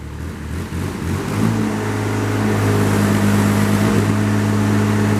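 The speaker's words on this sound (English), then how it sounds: "There's your Kubota coming to life." Kubota engine on a 2022 Princeton PB45.3 piggyback forklift cranks and catches after about a second, then settles into a steady, fairly loud mid-pitched running drone with no voices.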